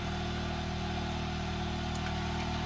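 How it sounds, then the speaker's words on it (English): An air compressor in a garage runs with a steady low mechanical drone during rear shock replacement on a Chevy S10, constant and fairly loud throughout the short stretch. "I can't believe the compressor cut on about that time, but it did."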